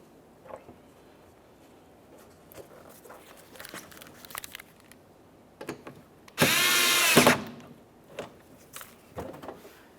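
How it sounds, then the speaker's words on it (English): A power driver runs in a bumper cover mounting screw on a 2011-2020 Toyota Sienna, with one loud whirring burst of about a second amid scattered clicks and handling taps. "Insert our mounting screws."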